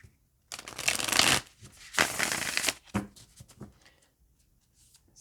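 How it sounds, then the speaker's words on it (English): Tarot cards being shuffled by hand, two loud riffling bursts of about a second each followed by a few softer taps and settling sounds, close up. "I'm going to shuffle them one more time."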